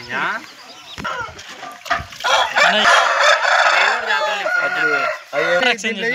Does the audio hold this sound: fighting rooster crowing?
yes